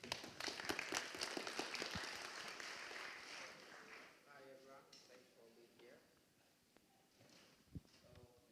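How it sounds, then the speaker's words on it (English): Conference audience applause for a speaker in a Greek university auditorium, clapping strongest at the start then fading as a voice talks over the dwindling claps. "A big round of applause for Florence."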